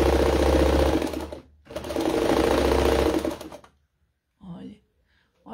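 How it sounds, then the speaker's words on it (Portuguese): An old sewing machine stitches in two loud, steady whirring runs separated by a short pause, then stops, followed by a brief voice. "essas máquinas bem reguladas, qualquer máquina, né? Bem regulada, você costura qualquer coisa."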